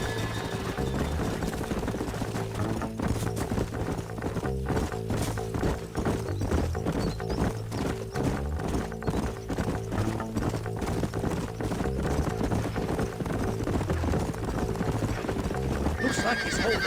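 Rapid rhythmic hoofbeats of galloping horses with repeated neighs in the video game Red Dead Redemption, loud and continuous over a busy background score.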